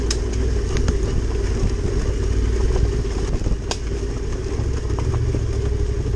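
Honda CRF 300 L motorcycle ridden off road, a steady close mid-pitched engine drone with rattling clatter and occasional knocks throughout, no voices.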